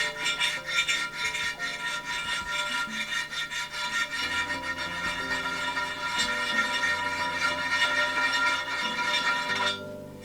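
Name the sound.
large metal file filing a restored ceramic piece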